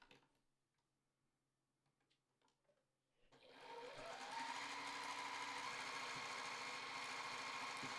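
A sewing machine stitches a quarter-inch seam across quilt fabric for flying geese blocks. After a few quiet seconds it starts up and runs as a steady, close, fast mechanical whir with rapid ticking until the end.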